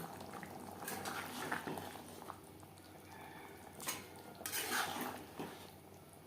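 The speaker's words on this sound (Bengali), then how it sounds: "ফুটে ওঠা পর্যন্ত অপেক্ষা করব চার পাঁচ মিনিট" Gravy for a hilsa fish and potato curry bubbles in a pot at close range, mixed with clinks and scrapes of a metal utensil against the pan and a louder clatter of cookware near the end.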